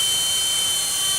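A SilverLit toy RC helicopter on 49 MHz control gives off a steady, thin, high-pitched rotor whine while hovering nearby, constant and unbroken throughout, with no voices.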